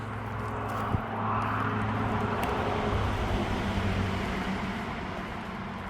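Steady low rumble of distant road traffic near the Appalachian Trail in North Carolina, a continuous broad drone of passing vehicles with no talking, briefly marked by one faint knock.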